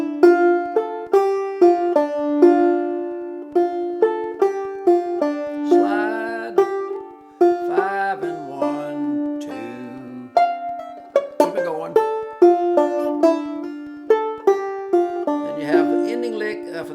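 A banjo plays the second part of Jaqueline's Dream, a steady stream of bright plucked notes with repeated pitches and slides, close and alone.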